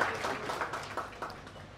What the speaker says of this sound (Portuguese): Mais aplausos para Orlando Capata, por favor.